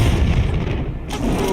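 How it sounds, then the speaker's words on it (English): Grenade launcher fire in the video game Tomb Raider III, in the Antarctica level Lost City of Tinnos: a loud, heavy booming blast with rumbling low end that fills the short moment, no talking over it. "Okay, grenade launcher, Lara."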